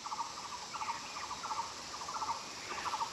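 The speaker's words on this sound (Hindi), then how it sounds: "जब इस वक्त ये इतना साउंड आ रहा है जंगल से" Jungle near the Mayang caves fills with a continuous chorus of insects and bird chirps, their bright trilling bursts repeating steadily over a soft background hiss.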